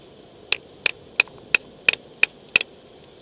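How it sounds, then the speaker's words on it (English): A small lightweight hammer taps a stuck bolt seven times in a steady rhythm, each tap a sharp, bright metallic ping that rings briefly, close and clear against a faint background hiss. "I'm going to tap it a little with my little lightweight hammer here"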